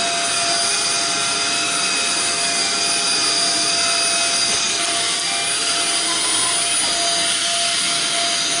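A Shark ION F80 DUO cordless vacuum cleaner runs continuously close by, a loud steady whirring whine with high tonal motor harmonics and no speech.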